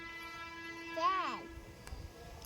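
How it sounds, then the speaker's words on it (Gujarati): A train horn sounds once with a rising-falling pitch, standing out over a steady hum and rumble of a passing train. "ટ્રેન"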